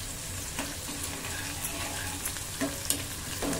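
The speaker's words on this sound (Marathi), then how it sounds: "मिरच्या वगैरे तेलात मस्त अशा फ्राय झाल्या" Green chillies frying in hot oil with asafoetida, a close, steady sizzle and crackle with a few stirring clinks, no talking.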